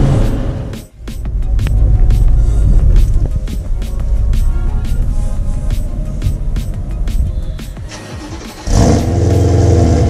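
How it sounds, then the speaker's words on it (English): BMW M3 pulling hard at high speed, a loud sustained engine roar and rumble from inside the cabin, with a brief dip near the start and a shift in tone toward the end. "I don't feel very safe going that fast in such a tiny car."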